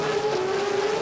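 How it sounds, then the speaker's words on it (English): A Datsun 1000 wagon with a 13B rotary engine, naturally aspirated, makes a loud, steady, droning engine note at a drag racing qualifying event. "A little Datsun 1000 with a 13B in it."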